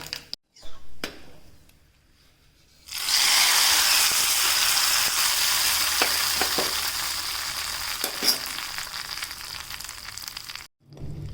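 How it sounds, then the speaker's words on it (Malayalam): A hot mustard-seed tempering in coconut oil hits a green gram curry with a sudden loud sizzle that holds steady for several seconds, with scattered crackles, after a brief quiet lead-in. "അപ്പോൾ ഇത് നമുക്ക് കൂട്ടാനിലേക്ക് ഒഴിക്കാം കേട്ടോ."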